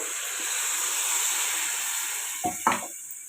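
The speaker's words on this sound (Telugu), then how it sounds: "వాటర్ అయితే పోస్తున్నాను" Water hits a hot pan of dried fish and onion curry, giving a steady, loud, close sizzle and hiss throughout, with a couple of brief clinks of stirring near the end.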